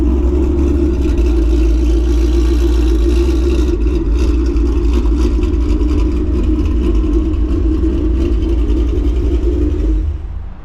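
A car engine with its exhaust disconnected drones loud and close, holding a heavy, raw rumble at steady revs before cutting off abruptly near the end.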